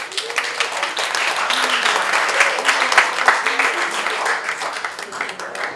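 Audience applause for actor Oka Antara at a press conference for the TV series Keluarga Garuda di Dadaku, steady dense clapping throughout with crowd noise and some voices mixed in.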